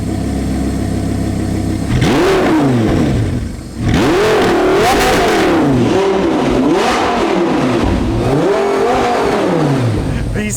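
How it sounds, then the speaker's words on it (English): A Lamborghini sports car engine with a titanium exhaust idles, then revs repeatedly, each loud rise and fall of pitch snarling through the exhaust, close by. "Now let's give it a few revs."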